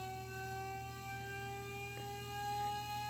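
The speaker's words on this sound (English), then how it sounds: "Here's an example of what Cagnier de la Tour siren sounded like." A Cagniard de la Tour siren, the early-1800s acoustic rotating-disc device, sounds a steady high tone with stacked harmonic overtones over a low hum, holding nearly constant pitch throughout with no voices present.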